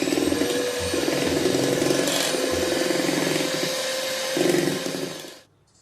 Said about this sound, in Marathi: मी आत्ता हे बीटरनी फेटते.